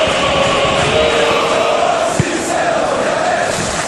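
Steady, dense roar of a football stadium crowd at a Monaco vs Manchester City Champions League match, a broad wash of massed voices holding at an even level for the whole stretch with only a brief thump near the middle.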